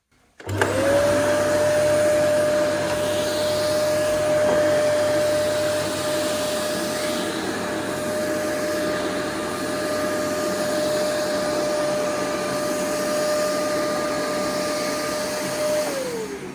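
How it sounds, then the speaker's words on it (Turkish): An old-type single-speed corded vacuum cleaner switches on and runs steadily with a loud, constant motor whine and airy roar, then begins to wind down at the end. "eski tip elektrikli süpürgemizin de sesini sizlere hemen göstereyim"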